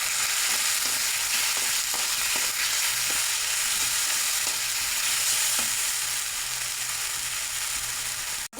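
Turmeric, cumin powder and salt sauté in hot oil with a dense, loud, continuous sizzle and crackle, broken by occasional soft stirring scrapes and a sudden cutoff at the end.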